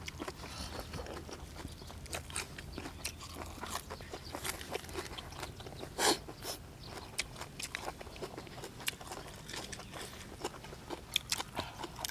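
Fresh raw squid tentacles are chewed up close in repeated crisp, crunchy bites with wet mouth sounds, steady through the clip over faint background noise.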